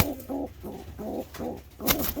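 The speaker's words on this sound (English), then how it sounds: "She's such a good looking pigeon, this one" A pigeon coos close by in a steady run of rolling, throaty pulses, about six repeated phrases, with a soft rustle near the end and no talking.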